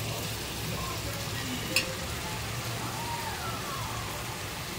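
Spice masala fries and is stirred in oil with a little cooking liquid from clams, a soft continuous sizzle and crackle close by, with a faint scrape of the spoon along the pan.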